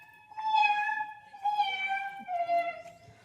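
A voice imitates a cat crying beside a house wall: three drawn-out, wavering meows, each rising and then falling, fairly close and clear, with faint background noise between them.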